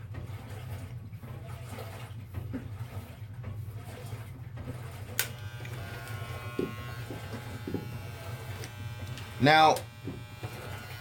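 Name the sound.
electric hair trimmer cutting hair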